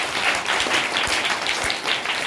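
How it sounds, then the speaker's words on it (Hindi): Audience applauding at a children's school play, a sustained wash of many hands clapping with a few louder claps standing out near the front, no voices on top. "ताली बजाओ जोर से।"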